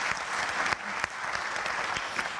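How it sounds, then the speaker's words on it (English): Audience applause at the closing session of a regional meeting, a dense, fairly quiet patter of many hands with a few sharper individual claps standing out, no talking. "please give them a round of applause as well"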